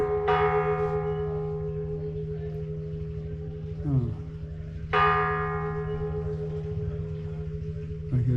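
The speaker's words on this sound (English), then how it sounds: "There's a church bell up there." A church bell at Hotel Mission in Cerocahui, Mexico, strikes twice, each clear ringing tone sustaining and slowly fading over several seconds, with a brief voice between strikes.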